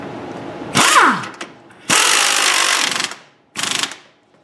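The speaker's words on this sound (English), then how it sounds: "And then run it on with the impact gun, because sometimes the tie rod end will spin." Pneumatic impact gun running a nut onto a tie rod end, heard as three loud bursts of hammering whir separated by short pauses, close up with no talking.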